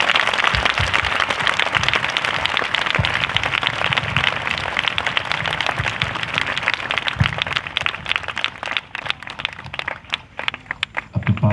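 A congregation at a Christian gathering in Jagdalpur claps for Jesus, a dense, steady patter of many hands filling the room and then thinning toward the end.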